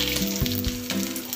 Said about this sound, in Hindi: अभी मेरा तेल गर्म हो गया तो इसमें डाल रही हूँ मैं जीरा